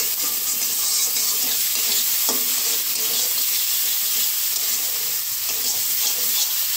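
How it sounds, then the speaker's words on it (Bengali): Boiled lentils are stirred in a pan until dry, a continuous loud hissing sizzle with soft scraping of the spoon underneath, close and steady. "সুন্দর করে নাড়াচাড়া করে শুকনো করে নেব"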